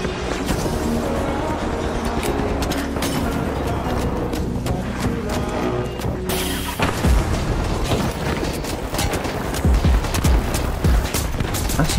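Automated turret firing in the video game The Finals, a dense continuous burst of rapid gunfire with heavy booms and explosions layered through the whole stretch, loud and chaotic with no pause.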